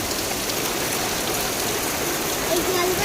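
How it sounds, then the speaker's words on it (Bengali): Heavy storm rain pours steadily as a dense, continuous hiss on a rural market day in the Sundarbans, loud and unbroken throughout, with a faint voice rising briefly near the end. "অনেক বৃষ্টি, বিশাল ধরে ঝড় বৃষ্টি আছে, তাই না?"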